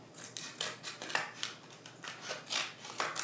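Scissors snip across the plastic seal of a silken tofu package in a rapid series of crisp, close cuts, with no talking.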